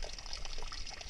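An underground stream trickles and splashes steadily, a close, busy wash of running water with no voices over it.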